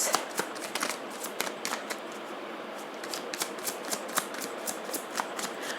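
Tarot cards are shuffled by hand in a rapid series of crisp riffling snaps and soft slides, close and fairly quiet, with no talking.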